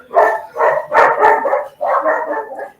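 Dogs bark repeatedly during a prayer, several loud, close woofs in quick uneven bursts with brief pauses between them, filling the space with no talk over them.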